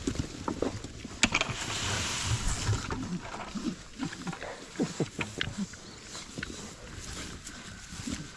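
Pigs out in a pasture grunt and snuffle in scattered low bursts, nearby and fairly loud, with rustling and some wind noise around them.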